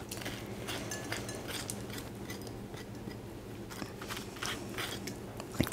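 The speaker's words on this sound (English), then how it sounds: "you're going to want to scoop out all your seeds" A spoon scraping seeds out of a halved cantaloupe, giving soft, wet crunchy scrapes in quick repeated strokes, close and fairly faint, with no talking over them.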